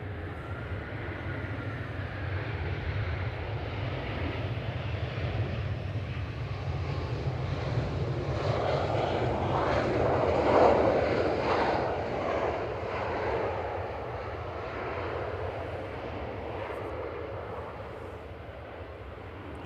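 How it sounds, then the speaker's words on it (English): Eurowings passenger jet from Dusseldorf landing at Manchester Airport: a continuous broad engine roar heard from a distance, swelling slightly midway as it touches down, then easing, with no voices. "Eurowings from Dusseldorf, flight 9344, just touching down."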